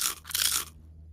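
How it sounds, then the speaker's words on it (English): A dry sagebrush stem crunching as it is handled outdoors, a short close crackling burst lasting under a second and then falling silent. "The stem's kind of crunchy."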